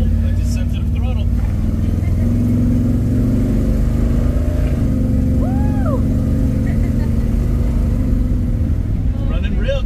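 A 1967 Pontiac Tempest engine drones loud and steady under throttle as the car drives, a continuous rumble close by with voices talking over it.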